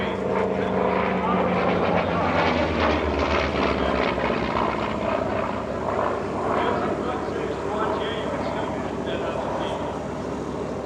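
A Corsair fighter plane flies at the EAA AirVenture airshow, its propeller engine a loud, continuous droning roar throughout, with a commentator talking over it.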